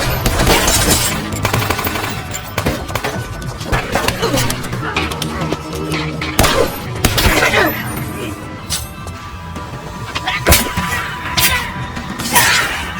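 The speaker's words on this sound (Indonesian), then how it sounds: "sehingga baku tembak pun kembali terjadi." A film gunfight shootout from Code of Honor (2016), with rapid bursts of gunfire, sharp single shots and crashing impacts layered over a dense soundtrack, loud and continuous.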